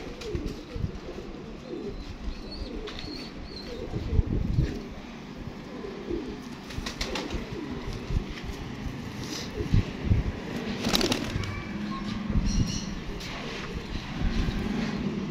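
Kasuri pigeons in a loft coo softly and repeatedly, fairly faint, over a low rumbling background, with scattered flutters and clicks.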